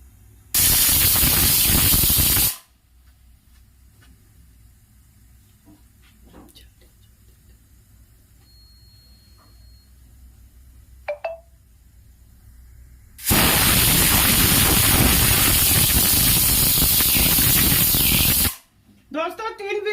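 A pressure cooker of black chickpeas hisses loudly as it vents steam in two long bursts, with quieter kitchen noise between them.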